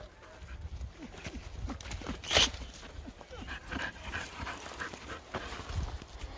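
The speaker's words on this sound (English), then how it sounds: "There's another skittish dog" A nervous, skittish dog at an outdoor dog park panting and whimpering softly, with scuffling paws and a sharp yelp-like burst partway through, amid steady low ambient noise.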